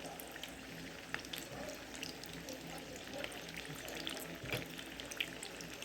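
Egg rolls deep-frying in hot oil, a soft continuous crackling sizzle with scattered louder pops, fairly quiet and steady throughout.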